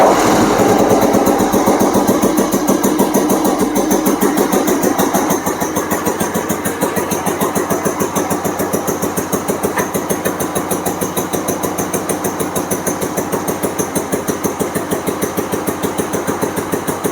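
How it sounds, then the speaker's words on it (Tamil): A restored 1986 Royal Enfield Bullet motorcycle starts up and settles into a loud, steady single-cylinder idle, its rapid, even thump continuing close by for the whole stretch. "வண்டி எப்படி இருக்குன்னு ஸ்டார்ட் பண்ணி காட்டுறேன் பாருங்கள்."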